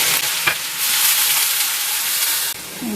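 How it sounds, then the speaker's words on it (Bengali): Chopped onion dropped into hot oil with nigella seeds, giving a loud, dense sizzle that swells and holds steady for a few seconds with a couple of stirring knocks, close and alone. "এর মধ্যে কুচিয়ে রাখা একটা বড় সাইজের পেঁয়াজ দিয়ে দিচ্ছি।"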